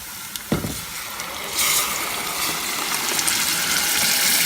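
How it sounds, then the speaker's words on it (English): Fresh tomatoes for homemade tomato sauce dropped into a hot pan, followed by a steady, loud hissing sizzle that swells and holds after the first splash. "This is where you want to add your tomatoes."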